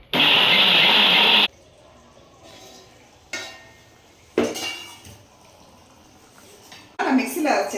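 A mixie jar grinds coconut with a spoonful of fennel seeds and a little water in a loud, steady whir that runs for about a second and a half. It cuts off, leaving scattered kitchen clatter and some speech.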